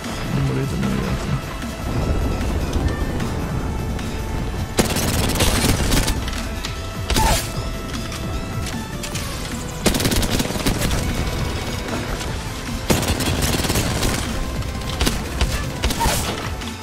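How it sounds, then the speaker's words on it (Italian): Bursts of automatic gunfire from the Apex Legends video game, shots fired through smoke, arriving as loud, dense rapid volleys separated by short pauses, with a faint voice in the background. "ho sparato a caso qua, attraverso la smoke"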